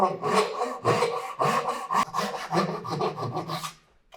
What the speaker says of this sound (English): we're going to jump in and with our saw